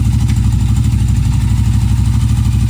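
A Royal Enfield Continental GT 650 twin fitted with a new Ngage Iridium spark kit idles steadily up close, with a deep, even throb and no revving, running alone throughout.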